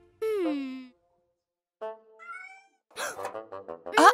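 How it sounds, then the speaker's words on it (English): A cartoon kitten meows several times, first one long clear meow, then a short pause and further higher, broken meows that grow louder toward the end, with no other sound beneath them. "Where's that kitten gotten to?"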